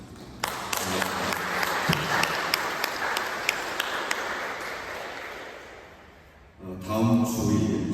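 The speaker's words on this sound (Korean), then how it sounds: "환영의 박수 부탁드립니다." A church congregation gives welcoming applause during Sunday worship, a steady roomful of clapping with a few sharp louder claps, tapering off before a voice begins speaking near the end.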